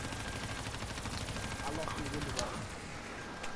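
Rapid automatic gunfire in Black Ops 3 Zombies rattles continuously at a steady, dense pace, fairly quiet overall and mixed with game noise.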